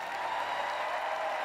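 Steady applause and cheering from a stadium crowd at a London 2012 Paralympic athletics medal ceremony, a dense, even wash of clapping that holds throughout.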